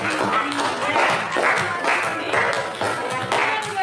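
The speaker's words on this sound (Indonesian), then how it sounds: "Tepuk tangan untuk" Students clapping together in a classroom, a fairly quick burst of applause from a small group that carries on steadily, with voices mixed in underneath.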